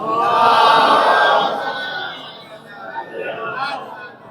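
A crowd at a religious Jashn celebration for Babul Hawaij in Silvassa loudly chants salawat together in response to a reciter, a dense collective roar that swells at first and then fades into scattered voices.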